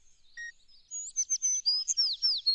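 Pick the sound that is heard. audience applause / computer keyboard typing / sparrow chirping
sparrow chirping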